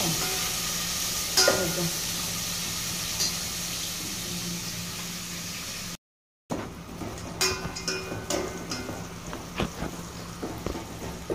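Onions sizzle steadily in a hot pan for egg biryani, with scraping stirs of a spoon over the frying hiss, close up, and a brief silent break midway.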